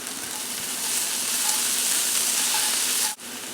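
Onions and spices, including cayenne pepper, fry in a pan for samosa filling, giving a close, steady sizzle that holds evenly and then cuts off briefly near the end.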